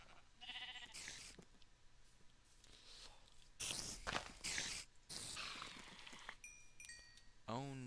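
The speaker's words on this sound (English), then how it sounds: "Well, stupid sheep." Sheep bleat in a survival game of Minecraft, a few short wavering calls scattered across the clip amid footsteps and other game effects, moderately loud with no talk over them.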